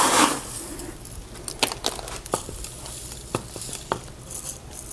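Gravel pebbles are scooped onto bonsai soil, making scattered gritty clicks and rattles with a brief rustle at the start, close and fairly quiet.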